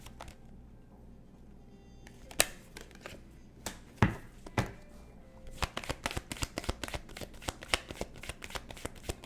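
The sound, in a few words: shuffling tarot cards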